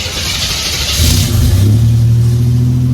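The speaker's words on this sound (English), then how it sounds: "Let's go ahead and crank the car up" A 1987 Buick Grand National with a Powermaster brake system leak is cranked and its engine catches partway through, then settles into a steady, close, loud idle rumble.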